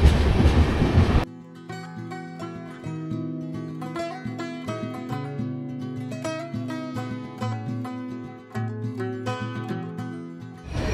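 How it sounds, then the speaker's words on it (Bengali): Passenger train rolling toward Kharagpur station in West Bengal, a loud burst of wind and rumble at the start giving way to steady rhythmic rattling and clatter of carriages. "খড়গপুর স্টেশনে ট্রেনটা দাঁড়াবে কিছুক্ষণ।"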